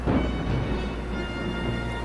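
A British thunderstorm pours down heavy rain in a dense, continuous hiss, with a deep low rumble of thunder underneath. The sound is steady and fairly loud, with no talk.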